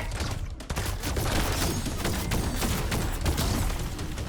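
Gunfire in the Fortnite video game: dense, continuous bursts of shots and booms fill the whole stretch at a steady, loud level, with a brief dip near the start.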